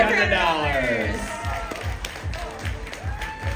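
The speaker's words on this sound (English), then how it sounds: "Another round of applause for you." Audience clapping at a charity auction right after a lot sells, a steady rhythmic patter of many hands with voices talking over it.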